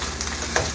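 Huevos con Spam frying in olive oil in a pan on an old stove, a steady close sizzle with soft crackle and no voices.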